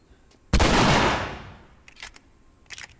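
One loud, close gunshot in The Last of Us Remastered video game cracks out with a long, fading echo, followed by a few faint clicks and rattles.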